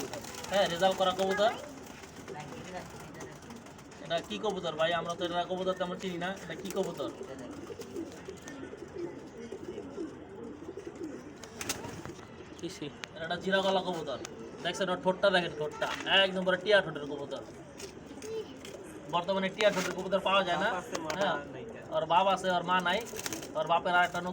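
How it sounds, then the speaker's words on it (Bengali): Domestic game pigeons coo repeatedly at close range, their soft rolling calls running beneath and between steady talking throughout. "কি কবুতর দেখেন এটা"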